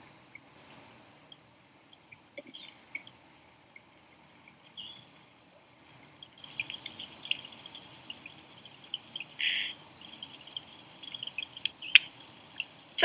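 Water drips and trickles at a trailside water source outdoors, faint and sparse at first, then a brighter, busier run of drips and a short pouring stream, with soft ambient insect or bird sounds behind.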